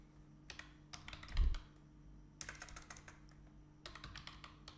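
Someone types code on a computer keyboard in a quiet room, with short clustered bursts of crisp keystrokes separated by pauses, close and fairly soft over a low steady hum.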